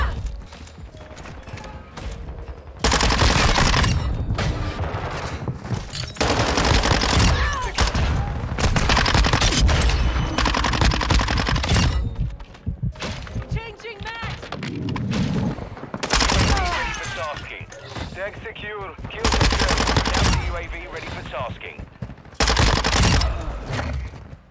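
Rapid, loud gunfire from a weapon in Call of Duty: Modern Warfare II, bursts of automatic fire with short pauses across the whole stretch, dense and close with no talking.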